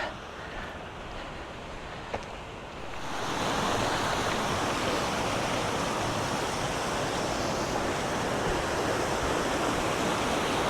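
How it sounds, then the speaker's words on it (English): Steady, broad rushing water from a waterfall near Oeschinensee lake in Switzerland swells in after a quieter opening and then holds as a constant roar, with no voices. "There's a waterfall over there though."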